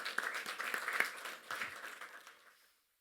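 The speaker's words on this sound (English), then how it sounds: "Can we have a huge round of applause for her?" Audience applause at an interfaith education forum in Pune, India: a dense burst of clapping from a crowd in a hall that swells, then gradually thins and fades out.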